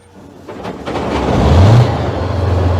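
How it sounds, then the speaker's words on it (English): The V12 multi-fuel diesel engine of a TOS-1 launch vehicle starts, cranking and catching, then swelling into a loud, low rev and settling to a strong, steady idle, with no talk. "we start the engine."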